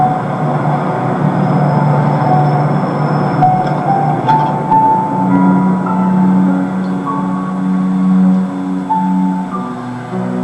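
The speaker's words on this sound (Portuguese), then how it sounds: "Me deu dor de cabeça o barulho desse trem." A train passes at moderate distance, a steady low rumble with sustained tonal hums and faint higher squeals lasting throughout.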